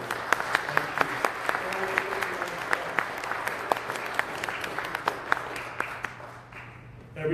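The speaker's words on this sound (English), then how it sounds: "Is it okay if we give you a round of applause because you're doing something?" A church congregation gives a round of applause: steady, moderately distant clapping with a few sharper individual claps standing out.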